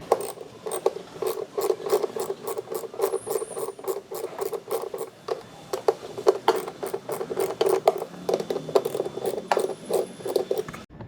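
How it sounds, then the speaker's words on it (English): Bolts being worked loose from a car's cabin air intake with a small tool, giving a steady run of close, rapid rasping and ratcheting clicks that carries on with little pause throughout. "So let's start removing these bolts one by one."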